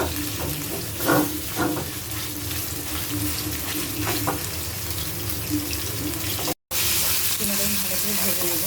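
Chicken mince with chopped onion and green chili frying in a little oil in a pan, a steady close sizzle with occasional stirring scrapes and one brief dropout near the end.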